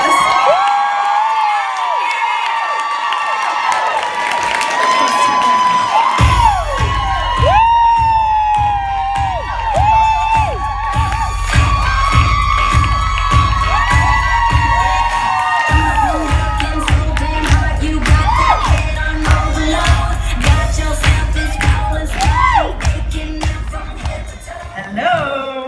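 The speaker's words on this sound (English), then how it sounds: "Please give a standing applause." A large audience gives a standing ovation at a business event, with loud sustained cheering, whoops and shouts over clapping while upbeat music with a thumping beat plays throughout, the crowd noise staying strong and near.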